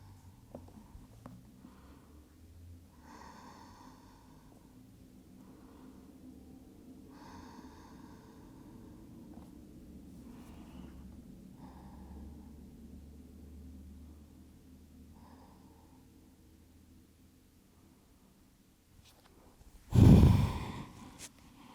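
Slow, deep yoga breaths held in a stretching pose for splits, long soft inhales and exhales repeating quietly up close, ending with one louder, forceful exhale.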